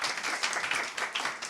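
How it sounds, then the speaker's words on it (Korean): A youth-group audience at a church career lecture claps in thanks to the pastor who gave the talk, a steady dense wave of many hands sustained throughout at moderate loudness. "우리 감사의 마음을 담아서 한 번 더 박수로"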